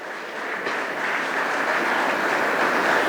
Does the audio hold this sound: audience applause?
yes